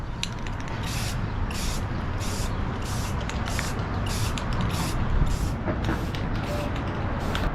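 A spray can or spray gun lays a coat onto a carbon fiber bike frame in a series of short, regular hissing bursts with brief pauses between them, close and clear over a low background rumble.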